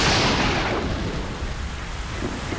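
A thunderstorm in Metal Gear Solid 3: Snake Eater produces a heavy roll of thunder that starts loud and fades into a steady wash of rain, with no voices.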